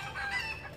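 Chickens clucking and roosters crowing at a golden temple in Soc Trang during the Chol Chnam Thmay new year festival, a faint brief burst of calls heard from a distance.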